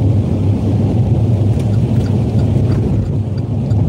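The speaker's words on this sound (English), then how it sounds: "it's raining out here where I'm at" Rain falls outdoors as a dense, steady hiss with a low rumbling wash underneath, loud and close, no voices over it.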